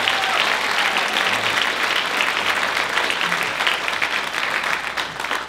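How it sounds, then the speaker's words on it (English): An audience at a country music concert applauds veterans in sustained, full clapping that stays loud and even for several seconds before easing slightly at the end. "We want to first give y'all a round of applause and thank you for what you did."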